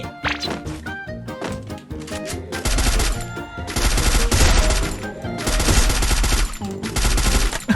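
Rapid automatic gunfire from the shooter game Free Fire, loud bursts of machine-gun fire repeating in dense volleys with short gaps, mixed with thuds and game effects.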